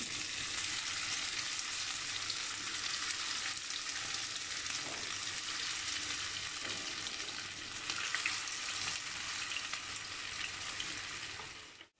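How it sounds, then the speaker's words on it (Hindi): Chicken seekh kebabs fry over a low flame in about five tablespoons of oil in a pan, giving a constant bright sizzle close up with no talking. "आपने बिल्कुल लो फ्लेम पे इनको फ्राई करना है। ऐसे मैं सारे डाल दूँगी।"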